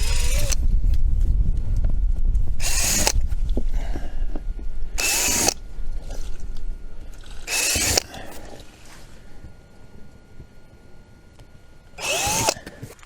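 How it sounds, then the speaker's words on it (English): A drill with a 1/8 inch bit bores through the outer skin of a body panel on a Can-Am Defender during a fender flare install, in several short, sharp bursts separated by quieter gaps. "we've got an 1/8 inch drill bit here, and we just want to go through the skin"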